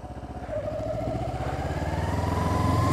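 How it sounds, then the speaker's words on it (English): A motorbike engine accelerates hard on a quiet road while the rider shifts up through the gears. The close, loud, buzzing engine note climbs steadily in pitch, with no talk over it. "I guess I could show you shifting up quickly on this road."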